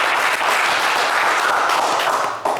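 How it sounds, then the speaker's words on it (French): A studio audience on a French game show claps in sustained, dense applause, loud and even from start to finish before easing off near the end. "On vous applaudit."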